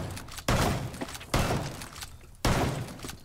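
Glass windows shatter in the video game Rainbow Six Siege on the Skyscraper map, three sharp loud crashes spaced about a second apart, each with a short tinkling decay.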